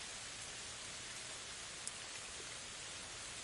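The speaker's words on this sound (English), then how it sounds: "The gentle raindrops create a blanket of tranquil, natural white noise." Gentle raindrops fall in a constant soft shower, a quiet even hiss with one faint single tap standing out midway and no talking.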